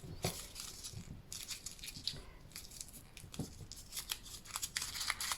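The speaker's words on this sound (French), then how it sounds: "Je viens carrément froisser mon papier." Paper being crumpled by hand while making a collage, a steady crinkling and rustling with sharp crackles throughout, close and fairly quiet, with no talking.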